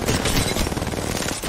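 Rapid automatic gunfire from the shooter video game Apex Legends, a dense, loud stream of shots filling a short burst with no talking over it.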